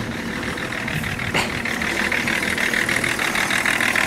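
A BMW 318i car engine idles steadily at close range, a continuous even hum with a brief louder swell near the middle and no voices.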